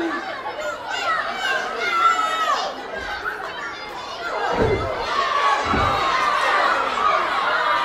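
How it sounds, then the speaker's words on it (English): Crowd at a wrestling match cheering and chattering, with excited shouts and children's voices rising in waves over several seconds, a commentator talking over the noise. "Crowd are loving the wrestling."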